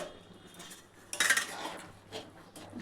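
A metal lid set onto a cooking pot of bottle gourd shukto, one sharp close clink and clatter amid quiet kitchen background.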